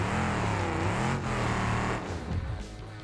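Car engine with its exhaust knocked off, revving loud and raw close by, pitch sweeping up and down with harsh rasping tone.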